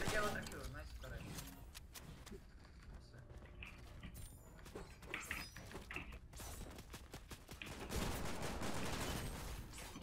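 Video game gunfire during an online match, rapid bursts and volleys of shots that are fairly faint under players talking, with mechanical clicks scattered between them.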